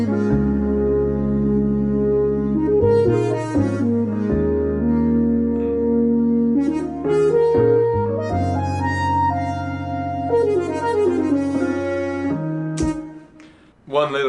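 Bass line from a song: sustained low notes change pitch every few seconds, layered under a steady, loud accompaniment that continues throughout, with no talking.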